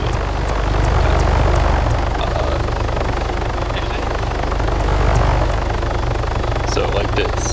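Helicopter in the video game Arma 3, its rotor throbbing loud and close in a continuous drone that swells slightly and fades, with scattered faint clicks over it.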